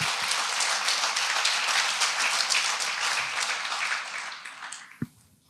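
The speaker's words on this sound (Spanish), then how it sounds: "dale un fuerte aplauso al Señor" Church congregation giving a strong round of applause during a sermon: dense, loud clapping from many hands that swells, holds, then tapers off quickly near the end.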